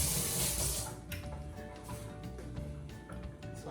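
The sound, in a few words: tap water rinsing a spoon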